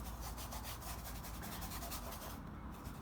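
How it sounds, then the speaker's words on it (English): A paintbrush scrubs paint across a surface in steady, close, scratchy rubbing strokes that continue without pause and with no voices. "I'm just gonna use my brush just to scrub"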